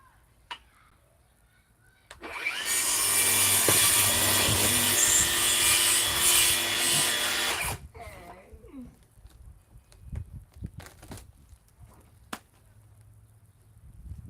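Loud rasping back-and-forth sawing through wood for several seconds, then it stops and softer knocks and shuffling follow.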